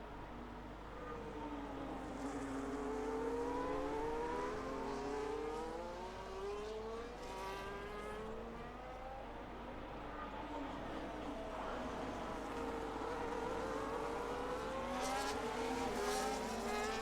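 Formula 1 race cars in a racing video game scream past in a dense pack at the Spain round, with overlapping high engine whines rising and falling continuously, loud and sustained throughout.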